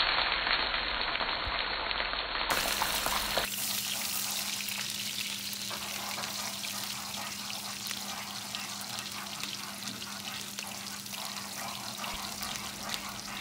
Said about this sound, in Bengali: সো সরিষার তেলের মধ্যে আমরা চপড অনিয়ন্স দিলাম।